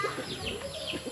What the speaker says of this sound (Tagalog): So ayan naman yung mga manok panabong dyan sa paligid.